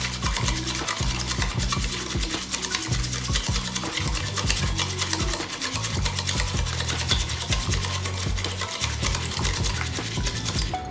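A utensil beats sugar and oil in a bowl for eggless marble cake batter, giving a steady, close, rapid scraping and rubbing with a quick rhythm that carries on without a break.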